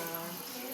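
Water runs straight from a tap in Surigao, a steady broadband splashing rush at moderate level with no break.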